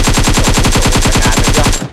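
AK rifle fire in PUBG Mobile, a loud sustained automatic burst of evenly spaced rapid shots lasting about two seconds before cutting off.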